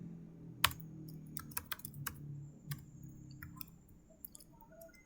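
Fingers type a new name on a computer keyboard for a program, a close, uneven run of sharp key clicks with short pauses that thin out toward the end, over quiet room noise and with no talking.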